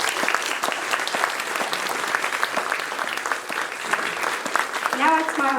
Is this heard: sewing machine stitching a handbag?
no